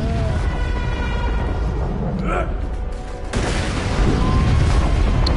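Rocket explosions in the video game Borderlands 2 form dense, loud booming and rumbling gunfire throughout, with a heavier burst near the end and a voice talking over the noise.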